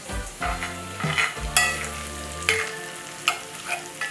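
Suadero beef for tacos fries in a pan, sizzling steadily while a utensil stirs and scrapes against the metal in several distinct clanking strokes, close and without talk.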